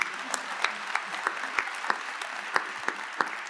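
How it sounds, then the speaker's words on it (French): Audience applause for a town mayor at a professional gathering, a steady bed of clapping with a few sharper, louder claps standing out at irregular intervals. "Applaudissements pour Monsieur le maire François Grosdidier."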